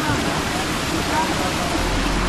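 Rushing water of a secret waterfall at Tapovan, a dense, constant roar heard close and loud, with people speaking over it.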